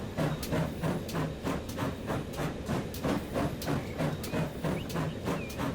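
Rhythmic wheel clatter and rolling rumble of a GWR tank engine train pulling into a depot in the Transport Fever 2 video game, steady and fairly loud throughout with no talking.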